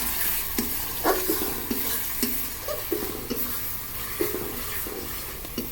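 Masala for chicken curry with fenugreek greens sizzles in oil, a steady frying hiss broken by repeated scraping stirs of a spoon against the pan.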